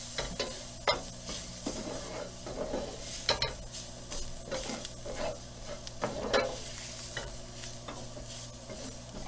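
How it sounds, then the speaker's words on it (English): Garlic and paprika sizzle steadily in a pan on lowered heat while a utensil stirs and scrapes, with repeated sharp clinks against the pan over a continuous frying hiss, close and moderately loud, no talking. "Stir it all around to get everything nice and coated."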